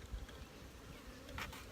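Honeybees buzz around an opened hive during a queen inspection, a faint, steady hum with slight swells and no talking.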